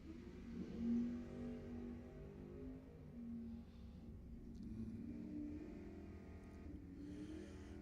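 A drag racing car launches during the NED Summit ET finals at Lebanon Valley Dragway, a steady engine roar that stays fairly distant and muted for the whole stretch, with no talking.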